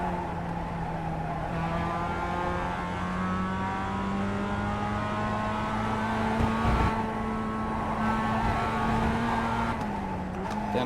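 A race car in the iRacing sim slows under braking, its engine note sustained and loud with steady harmonic tones that step down through gear changes, with brief tyre scrub near the end.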